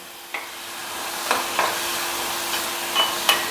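Grated coconut being stirred into wilted leaves in a pan for coriander chutney: a few soft, sparse scraping strokes over a faint, steady sizzle, close and quiet, with no talking.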